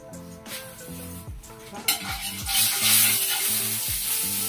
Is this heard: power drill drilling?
no